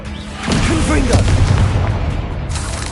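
Fiery Confringo blast spell from the game Hogwarts Legacy, a loud booming burst that erupts about half a second in and rumbles on through the rest of the moment, with a voice calling out over it.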